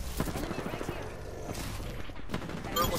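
Gunfire in Apex Legends, a continuous clatter of shots and game noise underneath a player's talk, with rapid repeated bursts throughout.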